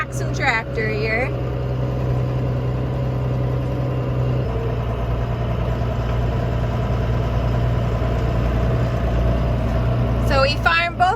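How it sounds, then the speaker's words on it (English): A Case IH Maxxum 5250 tractor engine idles at a field edge during land clearing, a steady low rumble running throughout, with brief speech at the start and end. "Got the 5250 Maxim tractor here."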